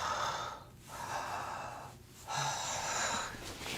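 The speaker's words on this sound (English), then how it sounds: "when we relax, we're belly breathing, which is like where your belly goes out" Slow, deep belly breaths for relaxation, close and soft, in two or three long airy inhale-exhale cycles with brief pauses between them and no speech.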